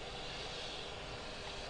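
A Yak-40 jet engine, the first of its three, spins up on its air starter with a steady, faint, broadband whine and rush that holds level throughout, with no voices.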